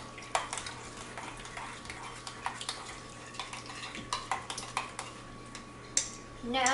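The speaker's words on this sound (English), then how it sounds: "So she's got the sour cream and the chilies, just mixing them up in a little mixing bowl." Sour cream and green chilies being stirred together in a small mixing bowl, giving scattered light clinks and scrapes of utensil against the bowl over a steady low background hum.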